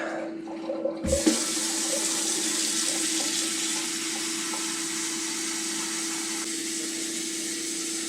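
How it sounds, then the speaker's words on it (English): Tap water pouring into a homebrew fermenter being filled toward the 5-gallon mark, a loud, steady rushing stream that follows a few brief handling knocks and continues unbroken to the end. "we've got to add water to get this up to the 5-gallon mark"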